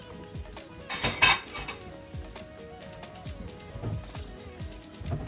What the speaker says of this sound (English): So now, guys, I'm going to put it on the stove